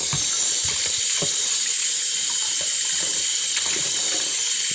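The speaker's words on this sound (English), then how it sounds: "Just wash off some of the salt first before I start to boil it." Tap water runs steadily into a kitchen sink while saltfish is rinsed to wash off salt before boiling, a continuous broadband splashing hiss with faint clinks and no talking.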